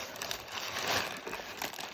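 Steady papery crinkling and rustling of blue packing paper, close and fairly continuous, like paper being unfolded and handled during an art supply unboxing, with no voices.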